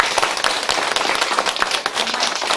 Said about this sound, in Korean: 같이 오신 분들을 위해서도 박수 한번 주시고요